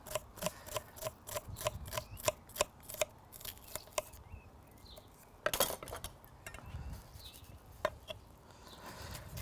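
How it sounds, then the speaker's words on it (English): A knife chops a shallot into fine dice on a cutting board, a quick steady run of crisp taps that pauses briefly and then picks up again in a few scattered cuts. "So just going to cut it into fine dices."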